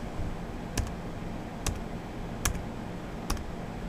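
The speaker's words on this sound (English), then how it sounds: "I'll press the Windows key on this one." Windows key pressed on a laptop keyboard, four separate crisp clicks spaced roughly evenly apart, close and quiet over a faint background hiss.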